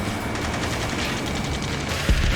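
Continuous rapid gunfire in the video game Ace Combat 7, a dense rattling stream of shots at steady volume with a heavier thump near the end, without speech.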